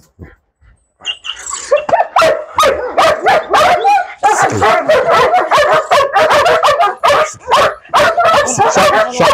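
A female dog in bite training on a cloth barks and yips in rapid, loud bursts close by, with whimpering between barks, after a brief quiet start.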